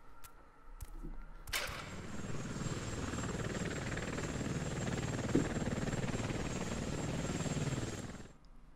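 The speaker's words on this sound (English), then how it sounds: "So it looks like the first boss is a helicopter" A helicopter boss in the PS2 game Shinobi thrums with a steady rotor and engine drone that starts abruptly after a few sharp clicks and holds loud and even before cutting off.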